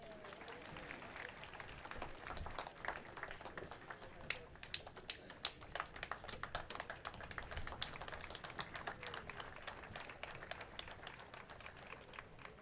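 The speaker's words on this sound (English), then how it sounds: "The clapping of hands" Sustained applause from a large audience at a Namibian Heroes Day 2024 ceremony, dense hand clapping that swells and continues steadily throughout, with scattered sharper claps standing out.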